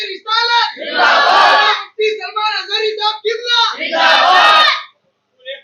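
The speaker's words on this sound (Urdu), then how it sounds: "حضور پاک صلی اللہ تعالی علیہ وسلم کی محبت میں نعرے لگائے" Several voices shout devotional religious slogans in unison at a gathering, coming as loud, rhythmic call-and-response bursts with one voice leading and a swelling group reply, repeated twice.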